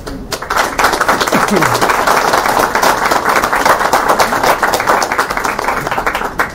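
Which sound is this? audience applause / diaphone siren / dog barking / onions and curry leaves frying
audience applause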